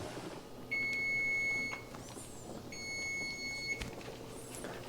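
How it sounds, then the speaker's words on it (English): An electronic kitchen timer beeps in two sustained high-pitched tones with a short gap between them, faint against quiet room noise and a few clicks. "so our timer has went off"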